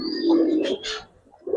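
Giribaz pigeons give a short, close, soft throaty coo followed by a brief pause and another faint murmur.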